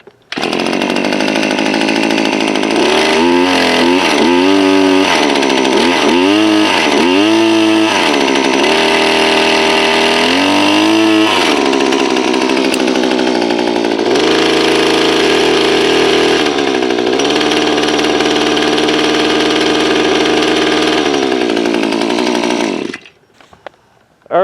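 A Maruyama MM24 two-stroke engine with oscillating hedge trimmer blades runs loud and close, revving up and down in quick bursts early on, then holding a steady high whine before cutting off near the end.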